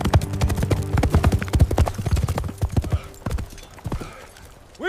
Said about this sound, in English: So I'll start off with a clip of a knight riding a horse.